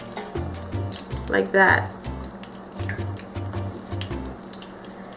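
A chile relleno pepper frying in a pan of oil, a steady sizzle running throughout with a brief louder burst near the middle as it is turned, and someone talking over it.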